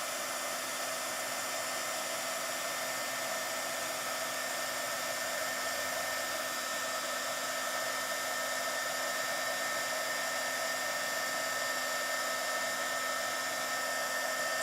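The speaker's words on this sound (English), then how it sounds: "So I'm just gonna heat this up and emboss." A heat gun blows steadily and loudly on a greeting card, melting embossing powder for a snowflake design; the whooshing blower holds an even, continuous tone with a faint whine throughout, no talking.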